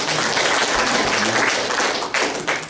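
A church congregation claps together during a Sunday worship sermon, a dense, loud burst of applause that holds steady and then begins to taper off.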